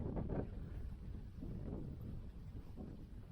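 Wind gusts buffet the microphone on a coastal walk by a creek and fields, a steady low rumble with stronger bursts near the start and again mid-way, loud and close with no voices.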